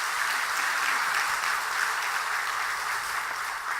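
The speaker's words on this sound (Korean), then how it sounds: "오늘 아침에 한번 박수 한번 보내주십시다" A church congregation applauds during a Sunday worship service, a steady, even wash of clapping held at moderate volume for several seconds, with no speech over it.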